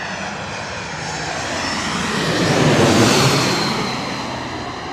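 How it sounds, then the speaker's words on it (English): An Airbus A220 comes in to land in gusty wind in Queens, New York City, its engines a broad steady roar that swells to a peak midway and then eases slightly. "Airbus A220 just coming on in."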